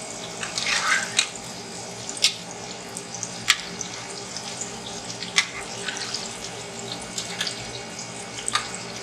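Ricotta fritters frying in oil, a steady bubbling hiss with scattered sharp pops and crackles, close by and with no talking.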